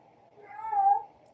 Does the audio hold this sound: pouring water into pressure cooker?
no